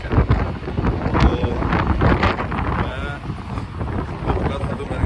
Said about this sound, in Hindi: आपको आवाज़ मेरे ख्याल में आ रही होगी हवा की, बहुत ज़्यादा हवा चल रही है